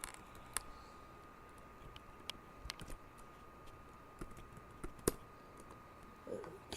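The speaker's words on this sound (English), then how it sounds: "if I can type, that would help." Keys on a computer keyboard tapped in short, sparse bursts of faint clicks, with a couple of sharper strikes, close by in a quiet room with no voices.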